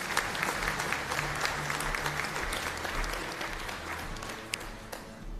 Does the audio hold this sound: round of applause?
yes